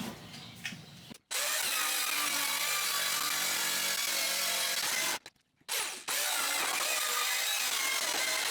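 A weak power saw cuts through wood for a homemade window fan. It whines steadily and loud in two long passes, with a short pause between them.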